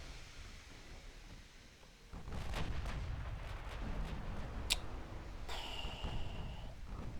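Heavy naval guns fire a salvo in the warship game Ultimate Admiral: Dreadnoughts, deep booming blasts rolling in after a quiet start and rumbling on with scattered sharper cracks.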